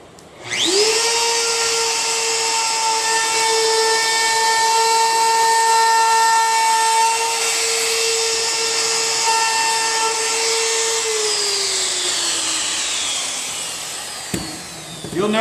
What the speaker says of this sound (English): You'll notice that as I use the router, I go over the majority of the edge from left to right